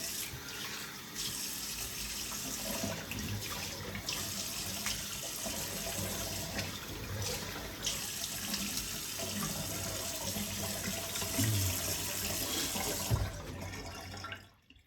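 A bathroom tap runs steadily as someone rinses off after shaving, a close, continuous splashing stream with brief shifts where hands cup and splash the water, until it shuts off at the end.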